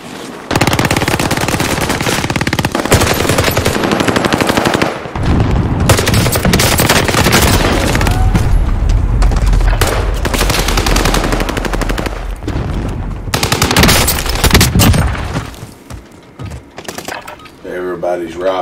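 In a multiplayer shooter, PPSh submachine guns fire in rapid bursts, loud and close, broken by short gaps and ending in quieter scattered shots, with players talking over the gunfire.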